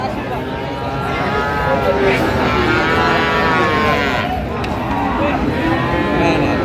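Cattle on a farm in Chattogram moo in long, drawn-out calls, several overlapping and close by, while people talk and bustle around them throughout.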